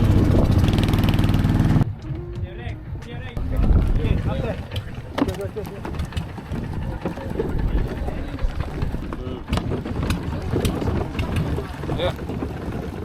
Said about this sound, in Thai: ต่อเรือเล็กนะฮะ